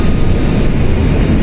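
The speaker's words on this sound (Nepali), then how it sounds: "प्लेन ल्यान्डिङ हुन लाग्यो है प्लेन ल्यान्डिङ हुन लाग्यो" Dense, loud rumble of airliner cabin noise as the plane comes in to land at Doha airport, a continuous low roar with no voices.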